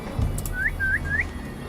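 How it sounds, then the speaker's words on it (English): In Assassin's Creed Valhalla, someone hidden in bushes gives three short, rising whistles in quick succession, clear and evenly spaced against faint ambient background. "Just a random whistle from the bushes."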